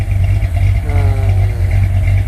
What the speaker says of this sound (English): nice clean exhaust, even though it will need to be dyno tuned for this altitude